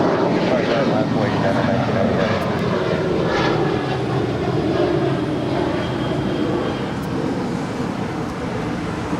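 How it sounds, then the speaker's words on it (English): A United Airlines Boeing 737-800 jet departing LAX makes a steady, loud, broadband engine roar that holds without a break, with faint voices underneath. "That is United Airlines Flight 1006 heading to Las Vegas. It's a 737-800."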